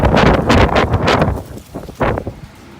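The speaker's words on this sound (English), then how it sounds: "Yeah, it's windy." Gusty wind buffets outdoors in loud, broadband rushes, strongest early on, then easing into softer intermittent blasts.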